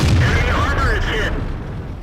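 An M26 Pershing tank cannon fires in a tank video game, one heavy boom that fades over about a second, with talking over it.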